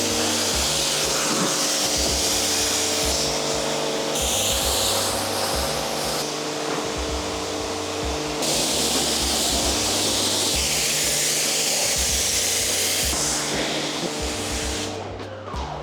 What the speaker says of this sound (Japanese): それじゃあ今高圧で流し切ったので